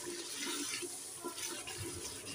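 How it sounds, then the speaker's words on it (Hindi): Hot water pours into a cooking pot of minced meat, yogurt and spices while it cooks, a soft continuous splashing at low level. "1 कप गर्म पानी है मेरे पास, ये इसमें डाल देंगे।"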